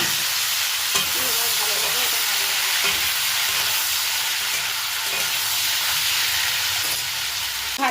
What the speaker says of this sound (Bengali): ভাজা হয়ে গেছে সবজিগুলো